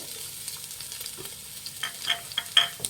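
Garlic with carrot, capsicum and green chillies frying in hot oil for egg fried rice, a soft steady sizzle with close stirring clinks and scrapes that grow louder toward the end.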